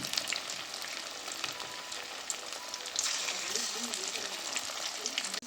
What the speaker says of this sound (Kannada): ಎಣ್ಣೆ ಕಾದಿದೆ. ಇವಾಗ ಮೀನು ಕಬಾಬ್ ಹಾಕ್ತಾ ಇದ್ದೀನಿ.